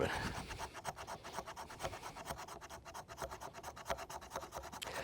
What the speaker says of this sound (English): really the place it scrapes really good is right up there next to the handle